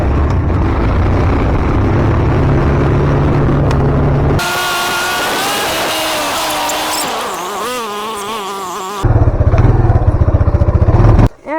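An ATV engine revs while driving off-road, a loud rough drone with clattering, shifting to high whining revs midway and then back to heavy rumbling before cutting off abruptly.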